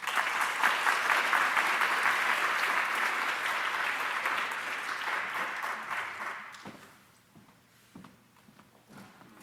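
Audience applause welcoming a lecture speaker, a steady room-filling clapping that carries on for several seconds and then dies away into near quiet.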